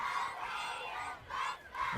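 Crowd cheering at a high school football game, Tatum vs West Rusk, pumped up by young cheerleaders: a distant, moderately faint wash of voices shouting together, swelling in waves over two seconds.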